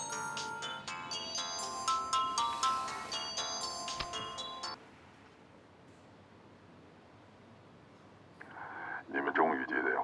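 A phone in a suspense crime film plays a bright, repeating melodic ringtone for several seconds, then stops, leaving quiet background before a voice comes in over the line.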